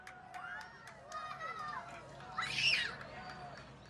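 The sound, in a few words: crowd cheering as solar eclipse reaches totality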